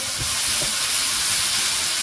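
Spring onions sizzling as they drop into a hot pan of spiced onions, a loud, close, continuous hiss of frying with a few low bumps, cutting off abruptly at the end, no voices over it.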